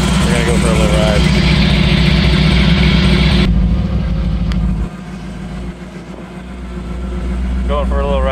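A 1934 Ford coupe with a 765-horsepower fuel-injected big-block Chevy V8 idles loud and close with a deep rumble, the revs dropping partway through before building again, with a voice speaking over it.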